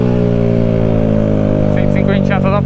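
Motorcycle and car traffic in a night-time congestion, with a close engine humming steadily and loudly underneath, and someone talking over it near the end.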